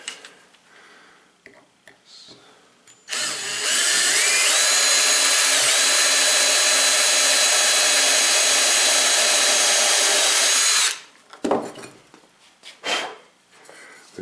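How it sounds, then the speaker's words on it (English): A power drill whines loudly and steadily for several seconds, boring into wood, with quiet handling clatter before and after. "when you drill into it, I'm going to try to push a little bit that way"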